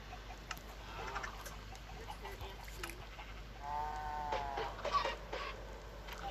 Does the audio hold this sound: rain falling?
no